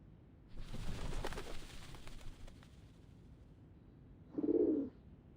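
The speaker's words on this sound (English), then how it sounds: "The doves of the Whitestone House are here." Doves of the Whitestone House in the Zenless Zone Zero video game give one short, soft coo near the end. It follows a stretch of rumbling, booming game noise.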